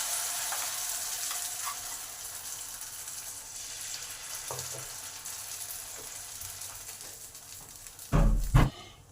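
Semolina batter sizzles after being poured into a hot pan, a steady, fairly close frying hiss that ends with a couple of loud clattering knocks from the pan or utensils.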